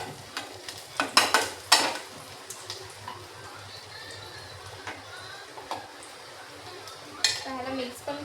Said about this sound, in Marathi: हे आपण ह्याच्यात टाकूया कांदा.